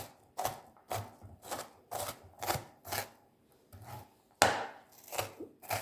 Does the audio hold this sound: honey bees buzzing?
no